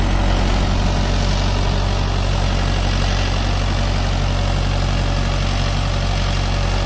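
Mahindra 475 DI tractor engine labouring steadily while pulling a 12-disc harrow through a field, a loud, continuous low diesel rumble with vibration and no break for nearly seven seconds.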